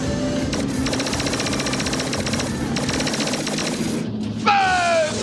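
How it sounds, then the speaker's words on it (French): Rapid cartoon gunfire crosses back and forth in a battle, rattling in fast bursts that pause partway through, followed by a sharp sweeping effect near the end. "Ils nous coincent avec leur feu croisé."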